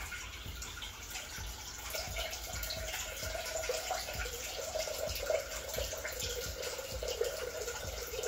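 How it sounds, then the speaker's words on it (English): Tap water runs continuously over fermented garbanzo beans being rinsed, a steady close splashing and trickling with small irregular spatters, no voices. "I like to rinse mine off after the fermenting, just to go ahead and get the beans nice and clean"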